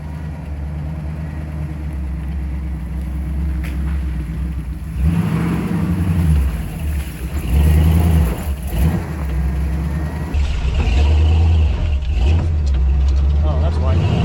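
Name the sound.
old Jeep engine driving up a rocky trail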